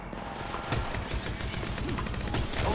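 Rapid, loud automatic gunfire in Apex Legends Mobile, a continuous close burst of shots lasting a few seconds.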